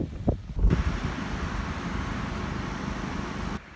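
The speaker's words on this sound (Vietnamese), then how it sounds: "Ui tiếng gió rất là ghê các bạn ạ." Strong wind roars across the Mau Son mountain peak in Lang Son, a loud, steady broadband rush with buffeting against the microphone, a few thumps at the start and no talk.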